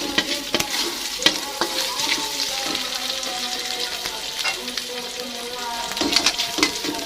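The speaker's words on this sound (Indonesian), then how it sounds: "Tumis sampai daging gilingnya matang ya." Ground meat and onion stir-fried in a pan for spaghetti sauce, with a steady loud sizzle broken by scraping, clacking strokes of a spatula stirring, close up and without talk.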